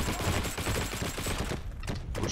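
Video-game PPSh-41 submachine gun firing a rapid continuous burst, loud and close, the rattle stopping briefly before a few more shots.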